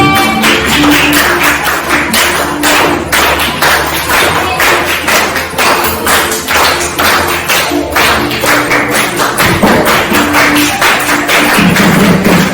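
A standing audience at a teaching practice session claps along in a steady, regular rhythm to a regional song, each sharp beat close and loud, with faint tones from the music in the background.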